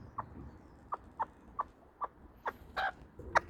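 A pet broody hen gives a short run of clucks, about eight evenly spaced, fairly close, the last few louder and sharper, with no one talking.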